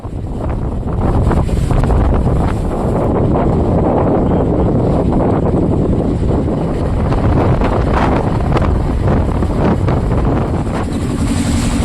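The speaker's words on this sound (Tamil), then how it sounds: "பலத்த காற்றுடன் கூடிய கடல் சீற்றம் காணப்படும் நிலையில்" Strong cyclone wind buffets the microphone over rough, surging sea at Pamban, Rameswaram, where fishing boats are being pulled by the waves; a loud, continuous roar of gusts and crashing water throughout.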